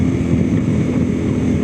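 Suzuki V-Strom 800 parallel-twin motorcycle engine running steadily up close, a loud, continuous low-pitched drone with wind buffeting the microphone.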